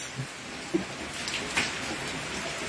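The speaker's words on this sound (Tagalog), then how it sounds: "mayroon pa ring natitirang pag-ulan na sanhi, na dulot ni bagyong Enteng" Steady rain from Typhoon Enteng falls in Pangasinan, a soft, even hiss of drops on surfaces that runs unbroken throughout, fairly faint, with a couple of small knocks and no voices.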